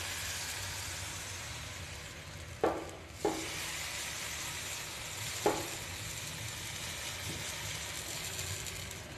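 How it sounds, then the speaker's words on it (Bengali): Patisapta batter poured by the ladle onto a hot tawa, a steady sizzle with a few soft clanks as the pan is handled, no voices. "এবার এখান থেকে এক হাতা নিয়ে তাওয়ার মধ্যে দিয়ে দেব।"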